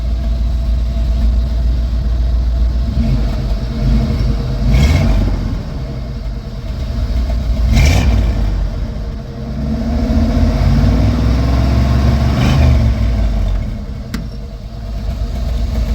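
A car engine idles steadily through a dual exhaust with a deep, throaty rumble, blipping the throttle in a few brief revs before settling back.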